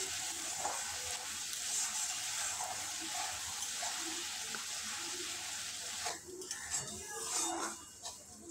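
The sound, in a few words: spice paste being sautéed in oil for bata fish curry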